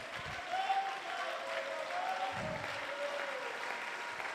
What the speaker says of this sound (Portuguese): Vamos aplaudir a Ele.